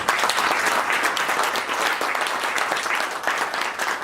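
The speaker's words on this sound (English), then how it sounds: "I think you all deserve a round of applause" An audience at a Kiwanis International event in Australia applauds with steady, dense clapping that fills the room and continues throughout.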